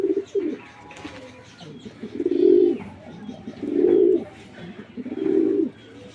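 Racing pigeons coo in a loft, three or four deep, rolling, throaty calls repeating close by at a steady spacing.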